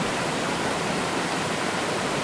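Steady, dense roar of Muara Karing waterfall in Merangin Geopark, Jambi, Indonesia, broadband and unbroken throughout, heard up close with no voices.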